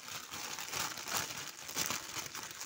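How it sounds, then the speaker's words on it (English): A scrap of plastic bag from the garbage crinkles close up during a phone-screen unboxing, giving a continuous soft rustling with a few brighter crackling bursts and no talking. "A piece of plastic bag from the garbage."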